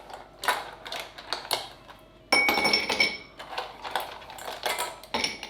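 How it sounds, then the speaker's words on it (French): Ice cubes clattering and clinking into a cocktail glass for a Penicillin cocktail, a rapid run of close, bright knocks and rattles, with a louder cascade partway through. "On remplit bien de glace."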